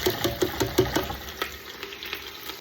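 Onions, chillies and curry leaves sautéing in a pan for sambar, a soft sizzle with a quick run of spoon-scraping stirs at the start, then quieter frying.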